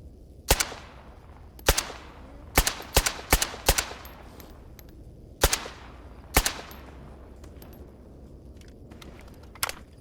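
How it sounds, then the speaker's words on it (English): Gunfire in the video game Stalker Gamma, a series of sharp, loud single shots, some in quick pairs and bursts, spaced irregularly across a quiet ambient background, with one fainter shot at the end. "First bullet didn't get them, the follow-through shots did."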